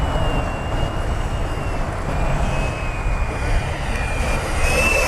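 A Freewing F/A-18C Hornet 90mm electric ducted-fan RC jet in Blue Angels livery makes a slow flyby, with a steady high whine over broad rushing air that shifts in pitch as it passes.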